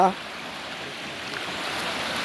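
A forest waterfall and stream pour in a continuous, even rush of water, close and fairly loud, with no breaks.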